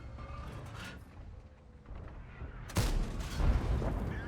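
Tank gun firing in World of Tanks, a single heavy blast partway through followed by rumbling echo, after quieter background sounds.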